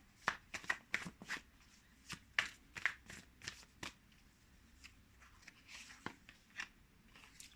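Tarot cards being shuffled and drawn by hand, with a series of crisp riffling flicks and soft slaps in uneven bursts, close and quiet with no talking.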